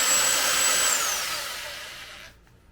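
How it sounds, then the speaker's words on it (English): A power drill with a long bit whirs into a guitar body at a low angle, a steady high whine that winds down and stops near the end. "I'm going to drill."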